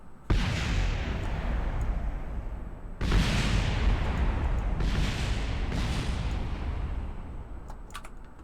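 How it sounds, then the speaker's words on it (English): Rocket explosions in Kerbal Space Program land as a string of loud booming blasts, one at the start, a heavier one a few seconds later, then two more, each leaving a rumbling, crackling tail. "Initiating explosions, sir."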